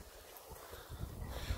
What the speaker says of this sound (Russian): Ветер, ребята, очень сильно поднимается.